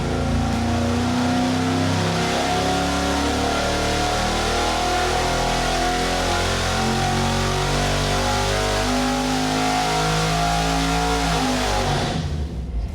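A modern 410ci stroker Windsor V8 with custom EFI and coil-near-plug ignition runs hard on a dyno, a loud, steady roar with a pitch that holds and slowly climbs for about twelve seconds before it cuts off abruptly.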